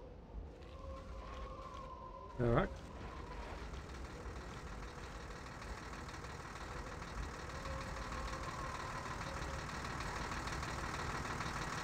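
A tractor engine idles in the video game Aliens versus Predator 2, a steady low mechanical drone running throughout with a brief sharp impact early on and no talk.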